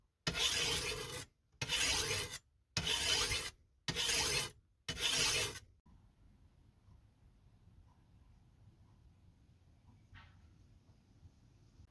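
A file sharpens a rusty machete blade in five steady, evenly spaced rasping strokes, loud and close. Faint room noise follows once the filing stops.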